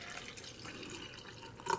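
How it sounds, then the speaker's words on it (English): Water pours into a cup, a soft, steady trickle and splash at low level with a brief brighter gurgle at the end, no talking. "I used to fill up this whole cup with water to dilute it even more"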